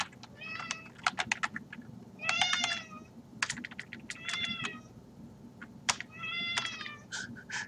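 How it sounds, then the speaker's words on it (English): A cat meows loudly and repeatedly in drawn-out, wavering cries, close by, while rapid keyboard typing clicks along underneath between calls. "What are you yelling about, cat?"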